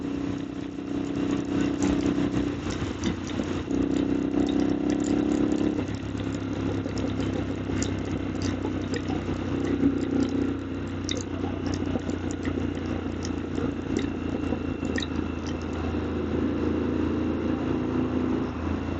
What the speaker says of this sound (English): First time I've ridden a motorcycle through a tunnel with an exhaust this loud.